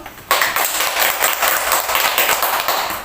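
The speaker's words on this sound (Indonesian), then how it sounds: "Mega, tepuk tangan dulu." Children clapping in a classroom as a reward for a student, a steady broadband burst of many hands starting abruptly and continuing evenly for about three seconds, close and fairly loud.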